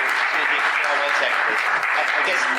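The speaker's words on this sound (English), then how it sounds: "I would have to ask you to refrain from clapping." A public plan commission meeting audience in La Grange, Illinois bursts into steady, dense clapping that fills the room evenly from start to finish, with no pause or talk breaking through.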